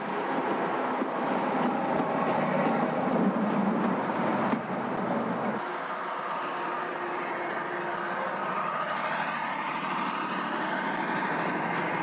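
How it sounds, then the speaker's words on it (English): A vintage Italian-built littorina railcar runs on the Eritrean railway with a broad, continuous rumbling roar that shifts in tone midway, steady and fairly close throughout. "The littorina crosses an up train in a faultless 70-year time warp."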